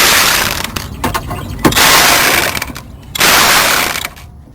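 Ratchet clicking in bursts as bolts are tightened on a Chrysler 200 radiator during replacement, loud and close, with rapid mechanical ratcheting broken by short pauses and a quieter gap midway.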